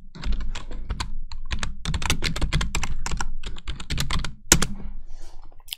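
Commands are typed on a computer keyboard at a close, brisk pace, with dense clusters of crisp key clicks and one sharper keystroke near the end, no talking.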